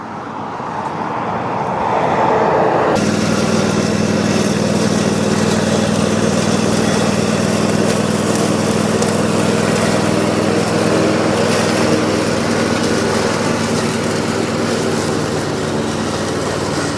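A new KIOTI ZXS48 standing zero-turn mower with a 48-inch deck starts up and runs at a loud, steady engine drone that stays constant and close throughout, with no talking.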